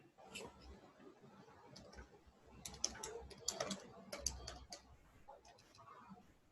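Clicky typing on a computer keyboard by someone with long nails, a quiet, uneven stream of taps with sharper key strikes, under faint talk.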